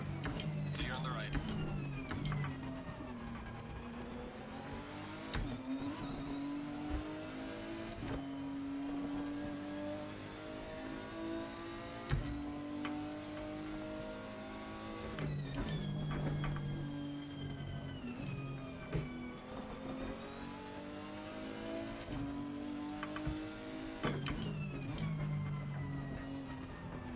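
A race car engine revving hard in Assetto Corsa Competizione, its pitch climbing steadily, cutting sharply at each gear change, then climbing again, over and over. The engine plays under ongoing talk.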